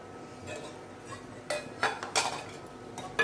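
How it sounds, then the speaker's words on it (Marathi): A spoon knocking and clinking against a metal pot while a spoonful of powdered sugar goes in, several sharp close clatters coming in a quick irregular run toward the end. "याच्यात मी 1 चमचा साखर टाकते"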